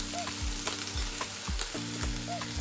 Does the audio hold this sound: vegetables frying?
yes